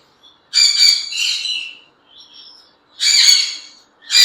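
Gouldian finches calling in bursts, several sharp, squawky, nasal calls close by with short pauses between them and no voices.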